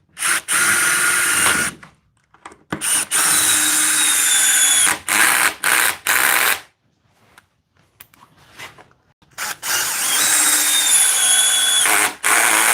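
Cordless power drill driving screws during a live tool build, several loud whirring bursts of a few seconds each separated by brief pauses, ending in a longer run.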